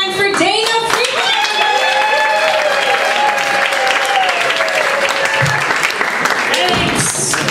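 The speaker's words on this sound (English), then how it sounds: "Please start clapping your hands for Dana Freeman." Audience applause and clapping for a comedian at a stand-up comedy festival show in NYC, a steady loud wash of many hands lasting throughout, with a few whoops and crowd voices mixed in.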